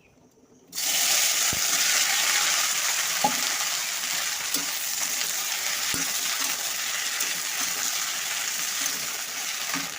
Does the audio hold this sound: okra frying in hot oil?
yes